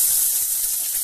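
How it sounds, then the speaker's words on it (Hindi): Chopped onion hitting hot oil in a pan for baingan bharta, giving a steady, bright sizzle and hiss that fills the whole moment without pause, close and fairly loud, with no voice over it. "अब हम इसमें ये कटा हुआ प्याज डाल देंगे"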